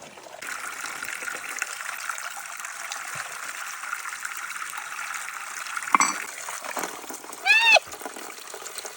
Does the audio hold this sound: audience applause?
no